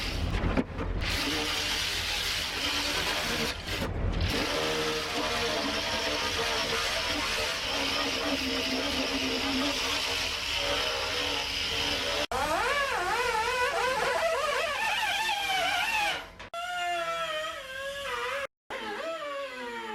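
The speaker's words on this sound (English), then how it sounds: "with my variable speed angle grinder and an 80 grit disc, I've taken off the paint very quickly indeed" Variable speed angle grinder fitted with an 80 grit disc stripping paint from a dented car body panel, a steady loud broadband whine running continuously, pitch wavering toward the end with brief pauses.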